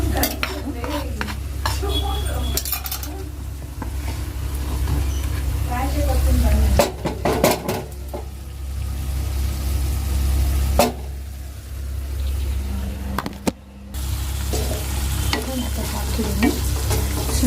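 Food fries in a home kitchen pan, a steady sizzle broken by stirring and the clatter of utensils against the pan, with brief voices in the background.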